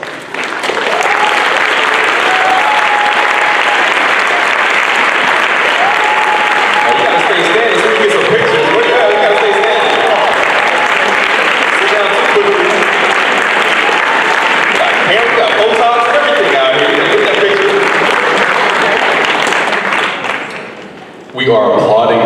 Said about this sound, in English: please stand as we give you a round of applause